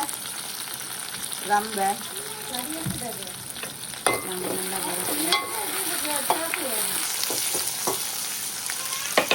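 Curry leaves, added after green chilies, frying in hot oil in a home kitchen: a loud, continuous crackling sizzle with sharp pops and stirring clatter, and a brief spoken word.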